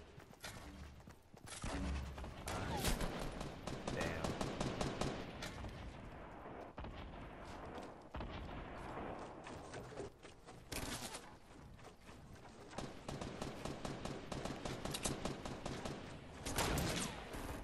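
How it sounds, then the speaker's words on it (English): Dense video-game gunfire from a battle-royale match fills the whole stretch: rapid volleys and bursts of shots, loud and continuous, with a few heavier booms and sustained rattling fire throughout, no speech over it. "I think I heard someone trying to shoot at me."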